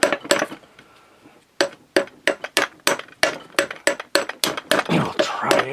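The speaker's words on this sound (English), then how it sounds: "I got this nice rawhide hammer." A rawhide hammer strikes Honda CT70H engine parts in a run of sharp, close knocks, a few quick hits, a brief pause, then about a dozen evenly spaced blows growing steadier toward the end.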